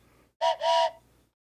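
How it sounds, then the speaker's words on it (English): A whistle blown indoors in two close blasts, a short toot followed by a longer shrill one, loud and alone against a quiet background. "I got the whistle out."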